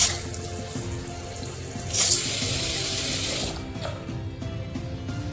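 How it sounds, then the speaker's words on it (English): Water runs steadily from a travel shattaf fitted onto a washroom tap, a continuous hissing flow that swells briefly mid-way and continues close to the listener, with faint mechanical clicks from adjusting the knob. "See, now if I open water, water comes out"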